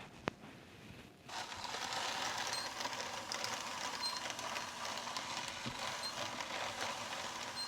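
Wool fleece runs through a carding machine, a steady mechanical whirring rumble that starts after a moment of near quiet and continues evenly at moderate volume.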